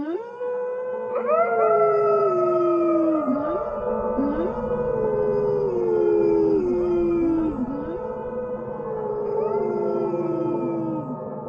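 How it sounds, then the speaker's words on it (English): Several wolves howl together, long rising and falling wails overlapping and sliding in pitch, loud and sustained with no speech over them. "The howling faded."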